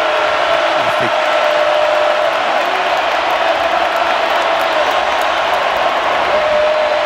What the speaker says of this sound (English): Loudest the crowd has been here in a while.